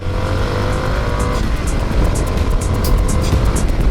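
A Suzuki DR 800 S single-cylinder motorcycle rides along country roads in La Hague, Normandy, its engine droning steadily and loudly under heavy wind rush.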